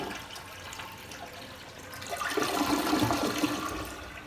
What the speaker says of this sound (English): We'll flush the commode.